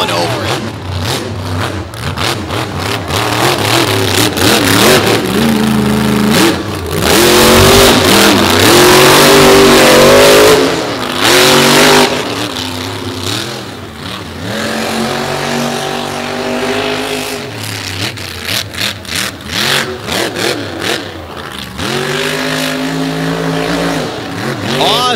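Loud monster truck engine roaring and revving in repeated surges at a beach show, rising and falling in pitch, with a commentator's voice heard over the engine noise.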